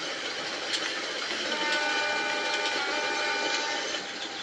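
Local train pulling away from Gedong Panjang station, heard from on board as a steady, close rumble with faint rhythmic wheel clatter and a thin sustained whine running through the middle.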